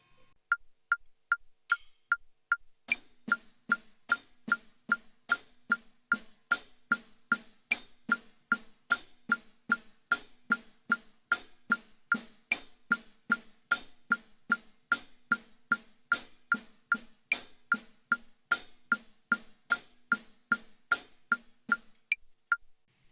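A steady drum groove on hi-hat and snare, evenly spaced crisp hits with cymbal-edge accents played with the stick shoulder, a triplet groove repeating at a brisk, regular pace with no voices.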